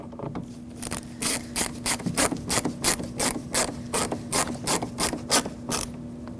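A hand ratchet clicking steadily as it snugs the top screw of a front exterior door handle on a 2006–2014 Lexus IS250, a close, even run of rapid pawl ticks with a faint steady hum beneath.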